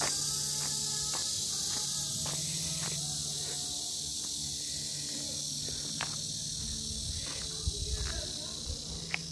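Cicadas drone in a steady high-pitched buzz outside the entrance of a live-music cafe, continuous and fairly loud over the whole stretch, with faint footsteps and scattered small knocks beneath.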